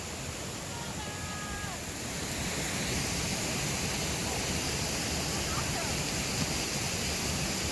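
A river and waterfall rush in the rain, making a steady, dense roar of flowing water with no break. It grows slightly fuller after the first couple of seconds and holds at the same level to the end.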